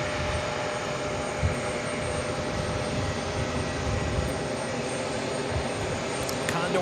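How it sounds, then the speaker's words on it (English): A Delta Connection CRJ-900LR regional jet operated by Endeavor arrives at New York's JFK airport, its steady, moderately distant engine roar holding evenly throughout under a broad wash of noise. "Delta connection, operated by Endeavor, flight 5207. It's a CRJ 900 LR."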